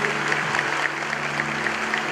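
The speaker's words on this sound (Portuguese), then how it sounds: "pode aplaudir o Senhor em nome de Jesus" Baptist church congregation applauding during a sermon, a steady wash of clapping from the room, fairly even and somewhat muted, with a low hum underneath.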